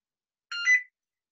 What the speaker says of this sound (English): I thought I'd let the phone ringing out subside.